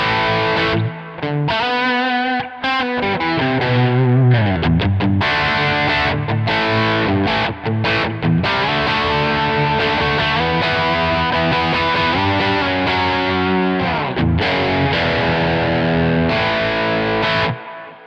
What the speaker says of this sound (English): We've just got the noise gate, the delay, and the reverb on the end.